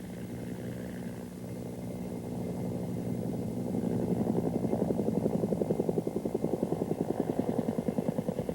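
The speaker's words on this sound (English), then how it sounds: "These two Cobras are preparing to dive with only one variable changed, in this case, the power setting" Two Bell AH-1 Cobra helicopters dive at differing power settings, rotor thump building from a distant hum into loud, rapid rhythmic blade slaps that stay close and steady to the end.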